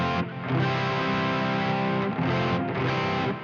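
An electric guitar runs through a Soldano Super Lead Overdrive pedal and a Neural DSP Quad Cortex Mesa Boogie 290 power amp capture, producing a loud, thick, sustained distorted chord with rich overtones that swells and holds.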